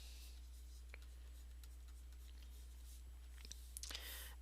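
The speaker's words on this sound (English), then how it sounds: "So let me write the second equation down." A pen scratches out an equation by hand on paper in faint, close strokes over a steady low hum, with a few quicker marks near the end.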